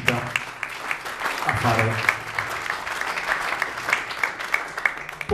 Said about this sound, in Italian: io farei un applauso anche alla marching band